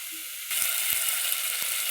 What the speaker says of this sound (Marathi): चांगलं तेलात फ्राय करायचं बरं का